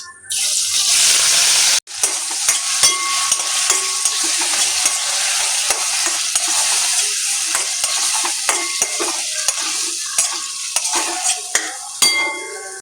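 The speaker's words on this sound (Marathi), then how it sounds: "त्यानंतर आपण जी ही प्युरी बनवली आहे, टोमॅटो, कांदा, आलं, लसूण आणि थोडीशी कोथिंबीर टाकायची" A puree of tomato, onion, ginger, garlic and a little coriander hits a hot tempering of cumin and curry leaves in oil, with a loud burst of sizzling frying and stirring that settles into steady crackle for the rest of the clip.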